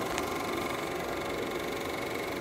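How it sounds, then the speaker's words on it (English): An old vintage projector motor runs with a steady, close mechanical hum and faint rattling vibration, unchanging throughout. "I'm testing out this projector and it works great."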